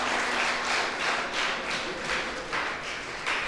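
An audience at an Urdu literary awards ceremony in Solapur applauds in a sustained wash of clapping, steady and fairly dense throughout, with a faint low murmur of voices beneath.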